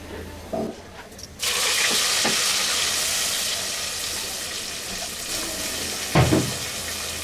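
Onion paste hitting plenty of hot oil for Bangladeshi morog polao, a sudden loud sizzle that settles into a steady close frying hiss, with a brief scrape of stirring near the end.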